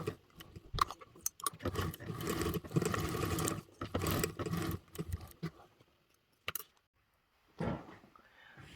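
A sewing machine bastes fabric and sew-in stabilizer shut on a bag project, running in several quick stitching bursts with short pauses, then a longer stop before one last run.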